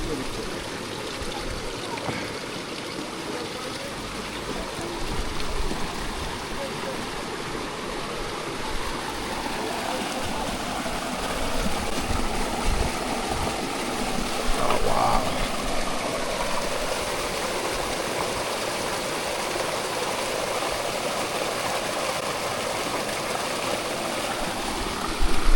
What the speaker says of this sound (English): he wants me to drink the water from the mountain, from the spring.